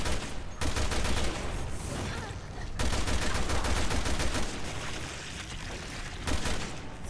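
Dense, continuous automatic gunfire in the video game Resident Evil Revelations 2, loud sustained bursts with brief pauses and occasional heavier booms, with a faint voice underneath.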